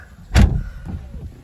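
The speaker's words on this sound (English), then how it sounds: "I'll just close that door." Door of a BMW M2 Competition with DCT gearbox pulled shut from inside, a single solid thud close by followed by a short muffled settling sound.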